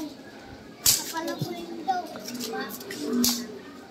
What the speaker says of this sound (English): Little kids playing what they call pugs.